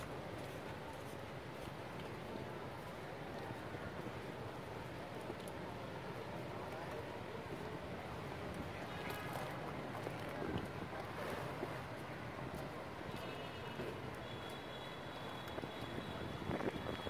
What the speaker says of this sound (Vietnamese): Gió mạnh quá, tay cầm ô cứ lật.